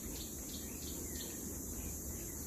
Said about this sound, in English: The cicada beetles is mocking us here today,